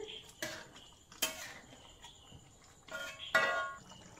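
Spoon stirring chicken curry in a pot after fenugreek powder goes in, a few short clinks and scrapes spread across quiet room tone at moderate-low level.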